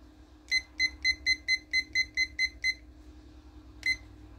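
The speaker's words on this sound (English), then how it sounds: "So I'm going to set our timer." A kitchen timer gives a fast run of about ten sharp, high electronic beeps in steady rhythm, then a single beep after a pause, over a low background hum outdoors.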